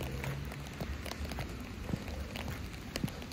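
Light rain falling outdoors in mild weather, a soft, continuous patter with scattered sharper drops tapping nearby surfaces, faint and even throughout.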